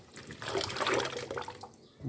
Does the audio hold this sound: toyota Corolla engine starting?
no